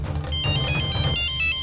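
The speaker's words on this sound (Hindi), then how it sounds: "सूरज का फोन।" A mobile phone ringtone rings in a tense Indian crime drama scene, a bright repeating melodic tone that plays steadily and close for the whole stretch with no talk over it.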